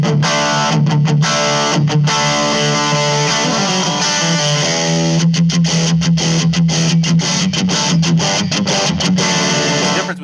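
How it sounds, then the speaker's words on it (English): Electric guitar with overdrive distortion playing sustained, gritty chords, with rhythmic choppy bursts and a saturated, buzzing tone throughout. "we could actually go between overdrive and distortion"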